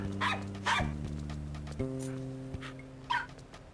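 A virtual dog in Nintendogs gives several short, faint yips and whimpers in quick bursts over a low, steady game backdrop.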